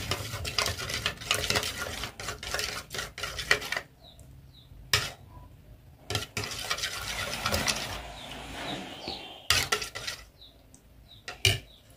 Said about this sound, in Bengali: ডিমটা বেশ ভালোভাবে একটু গোলাই নিতে হবে।